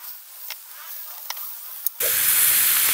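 Chicken thighs hit a hot pan skin-side down without oil, and after a few faint clicks a sudden loud, steady hiss and sizzle starts up close and continues; a voice talks briefly.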